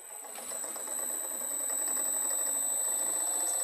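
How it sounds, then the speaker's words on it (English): An electric motor driven by a Siemens variable frequency drive spins up and runs with a steady, whining, slightly buzzing hum that grows a little louder and then holds even, heard up close with no voices. "So you can see now motor is on."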